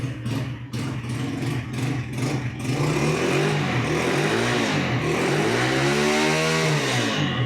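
A new Ravi 100cc motorcycle engine starts with a few sputtering bursts, then settles into a steady close running note and is revved up and down in rising and falling sweeps, loud and alone.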